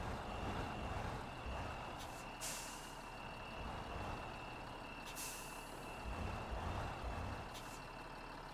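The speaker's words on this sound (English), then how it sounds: "I'm going to hook it up to my log truck, and I'm going to try and drive them both at the same time" Log truck hauling a repair truck in Spintires MudRunner, a steady low engine drone with sharp air-brake hisses near the start and middle and a faint continuous tonal whine, no voices.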